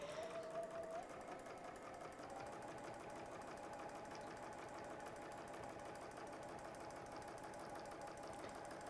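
A sewing machine chain piecing a quilt block runs in a steady, continuous mechanical whir with a rapid stitching pulse, close and alone throughout.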